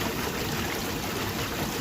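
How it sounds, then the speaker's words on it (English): Water rushes steadily over beach-gathered rocks and concentrated gold-bearing material in a bucket, a close, continuous broadband wash with no break. "That'll give the rocks a good wash off."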